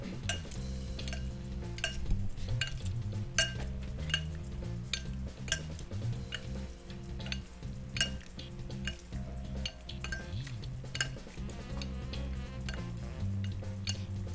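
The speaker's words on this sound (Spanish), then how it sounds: "Y vamos a revolver." A utensil stirs a tuna filling for stuffed eggs in a bowl, making soft repeated scraping and clinking strokes at close range.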